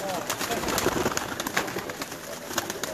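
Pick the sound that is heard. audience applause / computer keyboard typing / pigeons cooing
pigeons cooing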